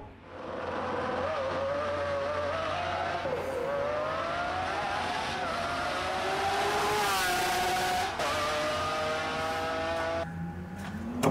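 A sports car on a city avenue revs hard through its original exhaust, the engine note climbing and shifting through gears in a loud, sustained roar from close by, with no talking over it.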